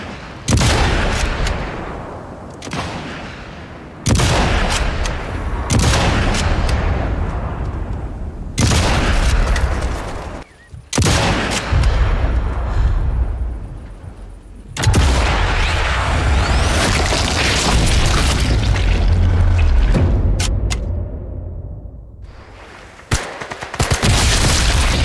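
Gunfire in the Sniper Elite 5 video game, repeated loud booming shots and bursts in dense clusters separated by brief pauses, close and dominant throughout.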